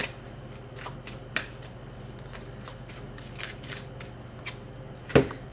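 A deck of tarot cards is shuffled by hand in repeated short riffling bursts, with soft snaps and a sharper clack near the end over a quiet low hum.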